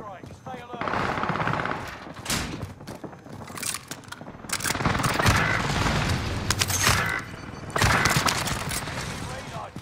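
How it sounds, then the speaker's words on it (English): Heavy gunfire and booming blasts in Call of Duty Warzone on Rebirth Island during an enemy precision airstrike, dense overlapping shots and explosions that surge in waves and never stop. "Enemy precision airstrike."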